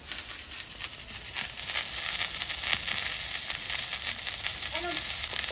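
Chopped onion and boiled potato fry together in an oily pan, giving a steady, close, fairly loud sizzle and crackle that holds for the whole stretch, with no voices.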